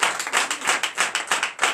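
Churchgoers clapping in a quick, rhythmic beat during a Sunday service, each clap a sharp burst in an even pulse across the short stretch.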